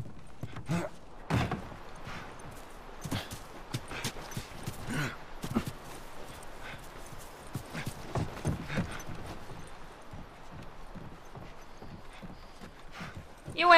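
Horse hooves clip-clopping at a walking pace in The Last of Us, irregular thuds near and fairly loud, with someone talking over them at times.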